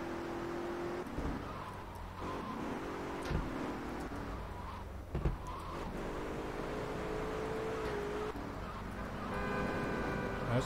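A car driving through the streets in the video game GTA III, a steady engine drone with shifting pitch, light bumps and a rising rev near the end, heard alone without talk.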